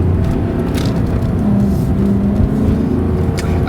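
A 2005 Maserati Quattroporte Executive GT cruises down the road, its engine a loud, steady low rumble heard from inside the cabin, with faint whirring and road noise over it.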